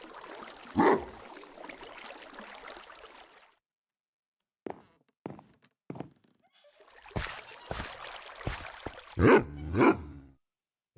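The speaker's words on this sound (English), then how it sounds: "There's a dog in there." A wild, untamed dog barking in Minecraft, with a few short barks and yips separated by silences and a louder pair of barks near the end, alongside other faint game sounds.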